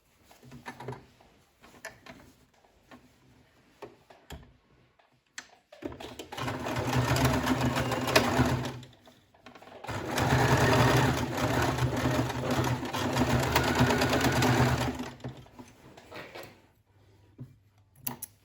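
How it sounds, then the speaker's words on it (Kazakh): Sewing machine stitching the corners of a fabric cosmetic bag: two long steady runs of rapid, close, loud motor-driven whirring and needle clatter, separated by a brief pause, with quieter handling before and after. "Енді осы бұрыштарын тігеміз."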